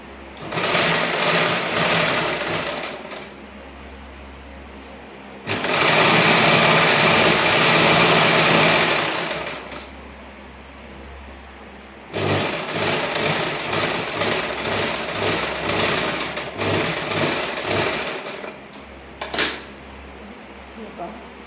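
A sewing machine stitches a lined blouse in loud, steady mechanical runs with short pauses between bursts, close and dominant.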